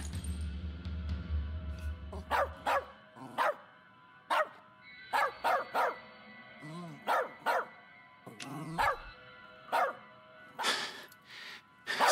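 A dog in the game As Dusk Falls barks repeatedly in sharp, loud bursts spaced about a second apart, with game dialogue between them.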